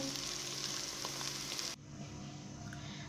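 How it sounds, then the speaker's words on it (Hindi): Goat brain masala, bheja fry, sizzles in a pan over low heat with a steady, dense crackle close by, dropping abruptly to a softer, quieter frying hiss partway through. "इसे हल्की आंच पर फ्राई करते हुए हमें 5 मिनट हो चुके हैं।"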